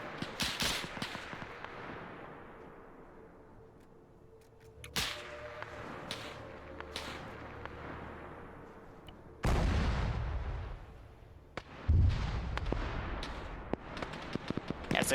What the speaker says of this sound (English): one of those machine guns started firing heck far